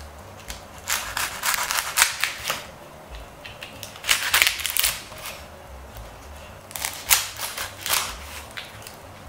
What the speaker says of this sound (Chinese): 条切小段